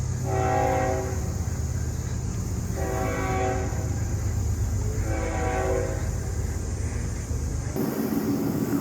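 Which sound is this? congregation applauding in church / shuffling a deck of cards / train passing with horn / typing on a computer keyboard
train passing with horn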